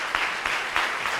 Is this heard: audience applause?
yes